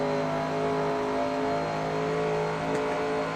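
A big V8 vintage race car engine in Assetto Corsa at classic Spa Francorchamps drones steadily and loudly with a dark, deep tone, holding a constant rev with no voices.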